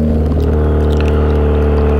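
Manual car engine running steadily with a low, constant hum while the driver shifts up through the gears, with the drone holding close and loud throughout.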